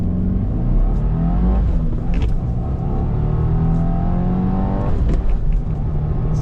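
A 2024 Subaru WRX TR accelerates hard from a dead stop on a closed back road, the engine droning loudly inside the cabin and rising in pitch through the revs, with brief breaks around gear shifts.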